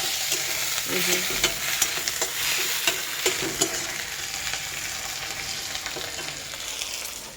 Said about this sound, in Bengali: কাঁচা লঙ্কা এবং পেঁয়াজগুলোকে হালকা করে কিছুটা ভেজে দিচ্ছি